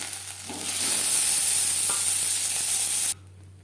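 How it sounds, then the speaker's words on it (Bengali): Chopped onion hits hot oil in a kadai that was just used for frying fish, setting off a loud, close, steady sizzle that lasts a few seconds and then cuts off. "মাছ ভেজে নেওয়া কড়াইতে আবারও তেল দিয়েছি দিয়ে দেবো পেঁয়াজ কুচি"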